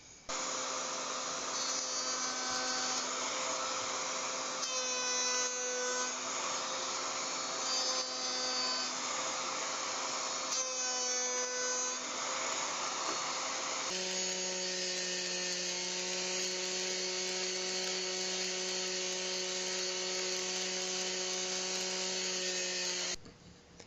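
A router fitted with a 3/8 inch round over bit cuts wood, a steady loud high-pitched whine that dips in bursts as the bit bites, then settles into a lower constant tone before stopping.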